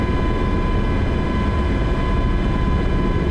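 Miltech MH-60T helicopter in MSFS 2024 rolls across grass, its engines and rotor making a steady, loud, dense roar with a faint high whine running unbroken throughout.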